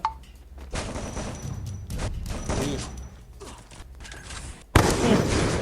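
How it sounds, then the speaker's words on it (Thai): Gunfire in the battle royale game Free Fire, dense bursts of rapid shots that run almost nonstop and end with a sharp, loud volley. "มันมีตัวยิงข้างบนนะครับ"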